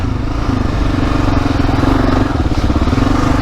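A Yamaha Tenere 700 ridden off-road, its engine a loud, close, steady throbbing rumble that fills the whole moment with no letup.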